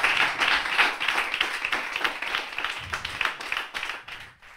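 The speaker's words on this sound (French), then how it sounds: "On les applaudit, s'il vous plaît." A studio audience at an intimate concert applauds the performers. The clapping is close and fairly loud, with individual claps standing out, and it fades away toward the end.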